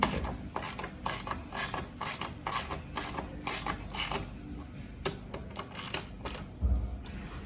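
Ratchet wrench tightening M6 bolts on a Honda CB500X rear rack, a rapid rhythmic series of metallic clicks in bursts, close and loud, with no talking.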